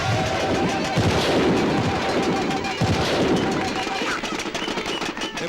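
Dense bursts of celebratory gunfire crackle and boom in quick succession through a scene in a Tamil movie, loud and continuous under a background of crowd noise.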